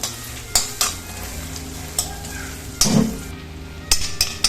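Crushed ginger, garlic and green chillies sizzle in hot oil, a steady crackling hiss punctuated by several scraping stirs of a utensil against the pan, close and without speech.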